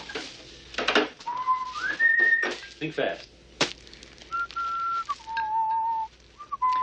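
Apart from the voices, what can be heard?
person whistling a song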